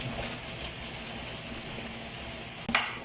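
Filipino garlic fried rice, sinangag, being stir-fried in a pan, with a soft continuous sizzle and a sharp scrape or clatter of the utensil near the end, no talking.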